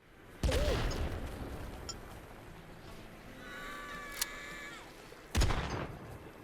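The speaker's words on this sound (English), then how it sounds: "Grenade!" In the game Worms W.M.D., a grenade goes off with a loud explosive burst, then a quieter stretch of small effects and a brief crack, and a second heavy blast near the end.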